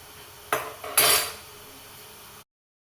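A metal lid set over a pan of softening tomatoes, with two quick clanks of metal on metal followed by a steady low background hum, close, with no talk.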